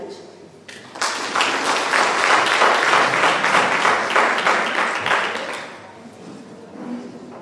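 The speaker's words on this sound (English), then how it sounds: "Another big round of applause." An audience at the SADTU Free State provincial teachers' union conference bursts into full applause that swells, holds for several seconds, then fades, with talk briefly heard before and after.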